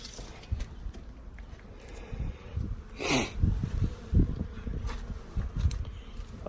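Honeybees from a newly installed package buzzing in front of the hives, a continuous close hum with passing individual bees and some footsteps and rustling nearby.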